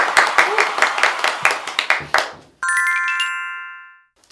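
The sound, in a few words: applause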